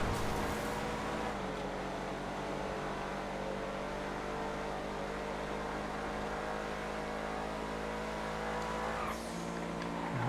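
A Dune Loader off-road truck in GTA FiveM drones with a steady, loud engine held at a constant pace, shifting briefly in pitch near the end.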